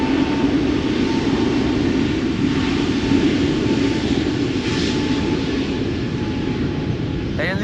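An EasyJet A320neo lines up on the runway at Schiphol Airport ahead of a KLM A330, its jet engines giving a broad, steady roar that holds evenly throughout at moderate distance.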